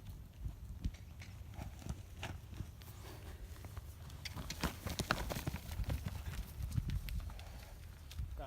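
A horse canters in an arena, irregular thudding hoofbeats at close range that grow somewhat louder and busier over time, with no talking over them.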